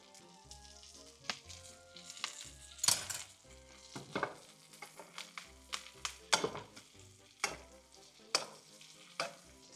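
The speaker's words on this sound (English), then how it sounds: "we're just going to slowly butter baste" Ostrich steak in a pan being basted with butter, fresh thyme, rosemary and garlic: close sizzling with bursts of spitting and crackle as spoonfuls of hot butter are poured over, broken by short pauses, with no voices.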